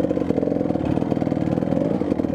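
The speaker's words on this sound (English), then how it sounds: "the main jet was just making it run too lean, or so it's just revving out of control." Kawasaki KDX 200 two-stroke dirt bike engine running lean from a clogged main jet, a loud, close, rapid buzzing putter revving high and steady without easing off.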